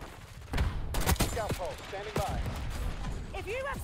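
Gunfire bursts in Black Ops 6 on the Nuketown map, sharp shots cracking close over game effects while a player talks.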